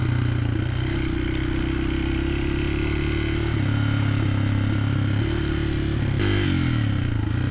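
A Honda XR150 motorcycle engine rides off-road through a forest trail, a steady close mid-pitched drone with rumbling low tones, shifting briefly in pitch near the end; no talking.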